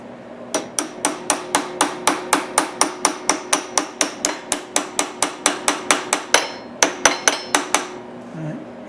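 A hammer taps replacement bandsaw guide bearing pins into place: about thirty sharp, bright metallic strikes in a steady, even rhythm, close and loud, with no talk.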